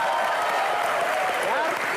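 Applause from an audience at a live stage show, a steady dense clapping that stays loud and even from start to finish.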